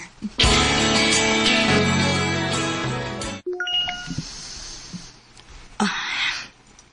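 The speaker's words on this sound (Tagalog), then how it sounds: "Na-text message kika ni Chapa." A short chime alert for an incoming text message rings out brightly, then a couple of softer tones follow after a pause, with a voice briefly heard near the end.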